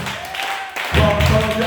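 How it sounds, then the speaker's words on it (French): Congregation clapping in a church service, a brief burst of hand claps and thumps starting after a short pause, mixed with voices. "donnez-moi des mains d'acclamation."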